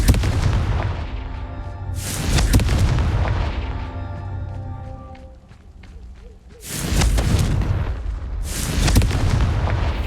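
In the video game Hogwarts Legacy, the Confringo explosive curse lands in heavy booming blasts: a big explosion at the start, another around two seconds, a lull with rumbling debris, then a further loud blast.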